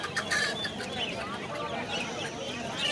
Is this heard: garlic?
no